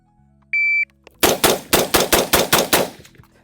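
A shot-timer beep starts a timed shooting drill, then a semi-automatic firearm fires a rapid, evenly spaced string of about nine loud shots.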